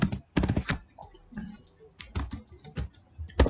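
Quick bursts of keystrokes on a computer keyboard while Python code is entered to remove items from a set, clicking in short clustered runs with pauses between, close and fairly loud.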